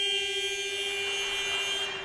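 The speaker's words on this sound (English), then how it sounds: "that's the way to go out with the buzzer" A shot-clock buzzer sounds at a snooker match, the Scottish International Open 2019, as a steady, unbroken electronic tone that holds loud for about two seconds.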